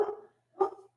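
A dog barks twice in a podcast recording setting, two short close woofs separated by a brief pause.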